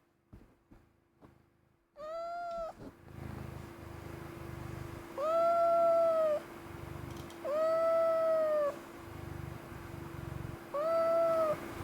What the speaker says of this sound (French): Tu veux miauler dans le micro?